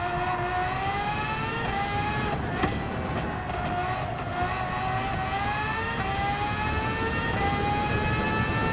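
A racing car engine in Gran Turismo 7 shifts up a gear during a Nations Cup race, a loud continuous high-pitched whine that dips and then climbs steadily again, with a faint rattle of noise underneath.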